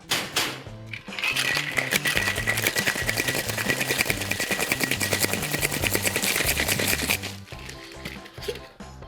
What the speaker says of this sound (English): so I give it a nice long shake because right now is as cold as it's ever gonna be